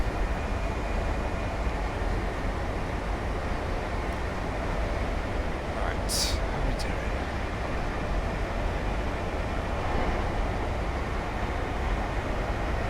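A train in Train Simulator 2017 rumbles at speed as an unbroken, loud roar with faint clicks, and someone briefly speaks over it.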